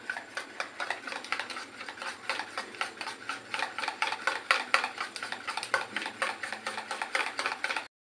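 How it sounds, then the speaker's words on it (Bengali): A mango curd mixture being stirred into milk makes a quick, rhythmic scraping and clinking of a spoon against the vessel, close and steady for the whole stretch, with no voices. "মিশ্রণটা আমি পুরো দুধের সাথে মিশিয়ে দেবো"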